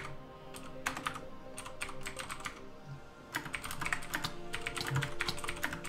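Rapid keystrokes on a computer keyboard come in bursts with brief pauses, close and clear over a low background hum from a Minecraft Project Ares minigame session.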